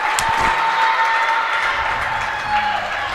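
Crowd at a junior high girls' basketball game between the BC Hornets and Payson cheers and claps steadily, a dense, lively wash of applause and voices filling the gym throughout.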